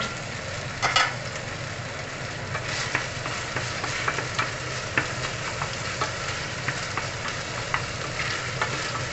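Onions for beef steak sizzling in a pan while being stirred, a constant close frying hiss broken by regular scraping and clicking of a spatula.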